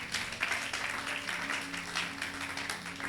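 A church congregation applauding in praise, a steady, dense wash of clapping from many hands with faint background tones throughout.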